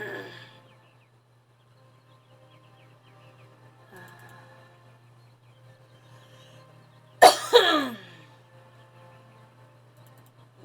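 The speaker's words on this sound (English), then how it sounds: "This cough is going to be the death of me." A character coughs in the video game Syberia: one sharp, loud cough burst followed by a second rasping one, set against a quiet, steady low game hum.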